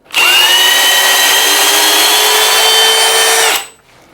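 Cordless hammer drill, Milwaukee or DeWalt, running at full speed in one continuous loud whine for about three seconds, then winding down abruptly, heard close up with no talk.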